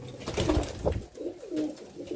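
Pigeons coo repeatedly inside a loft, soft throaty calls overlapping in a steady, close cluster with no talk.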